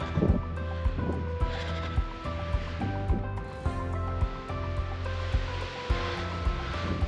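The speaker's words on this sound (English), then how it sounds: "The higher I hike, the worse the wind is." Strong wind roars and buffets steadily across a high, exposed mountain ridge on a hike toward a summit in Rocky Mountain National Park, loud and close with repeated gusty thumps against the microphone.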